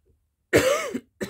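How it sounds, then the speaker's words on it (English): A single person's cough indoors at a desk, one loud harsh burst followed by a short second catch, close to the listener with no talk. "I hadn't coughed for ages, so I thought I'd be all good."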